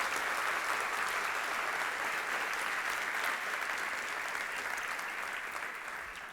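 Church congregation clapping together in a steady, dense wash of applause that fills the room, holding loud throughout and easing slightly toward the end, with no voices over it.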